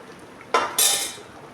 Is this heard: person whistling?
no